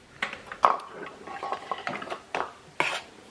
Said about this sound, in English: you just mix until it's well incorporated